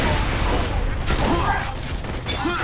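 Dense, continuous gunfire in the video game Borderlands 2, a loud, sustained barrage of rapid shots with a few tonal game effects mixed in.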